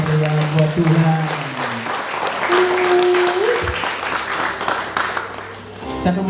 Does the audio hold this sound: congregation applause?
yes